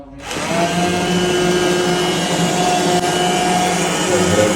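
An electric kitchen grinder blending shahi paneer ingredients in a home kitchen starts up and runs with a loud, steady whirring drone that holds unbroken to the end.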